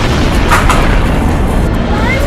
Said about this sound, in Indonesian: tiba-tiba ledakan hebat terjadi